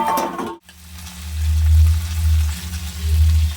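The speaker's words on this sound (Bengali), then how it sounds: "আমার কচুটা হালকা ভাজা হয়ে গেছে" Taro pieces fry in a pan with a strong, continuous sizzle that swells after a short clatter and stays loud and close, with no voices.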